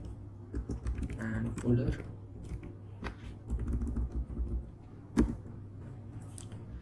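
Quick, light keystrokes on a computer keyboard come in irregular bursts while terminal commands are entered, close and fairly quiet, with a voice speaking softly over the clicking.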